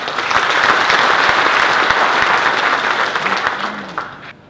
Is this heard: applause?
yes